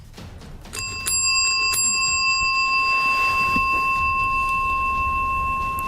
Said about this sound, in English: He rings the bell a few times to show James